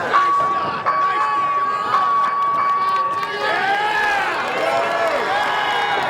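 A crowd at an Island Fights combat sports event cheers and roars in a sustained wash of noise, with a commentator talking loudly over it throughout.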